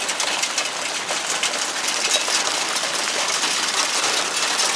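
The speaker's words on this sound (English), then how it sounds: "a little bit of hail" Hail falls outdoors in Port Orchard, Washington, a dense, steady rattling patter of small ice pellets hitting surfaces, loud and continuous with no voices.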